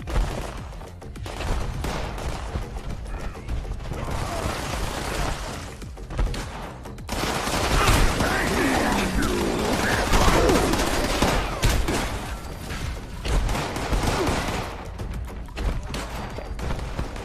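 Continuous rattling gunfire from enemies shooting at defensive turrets in Fallout 76, a dense steady barrage of overlapping shots that swells louder midway and stays close throughout.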